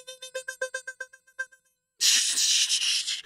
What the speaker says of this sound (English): That's the Morse code message of the night.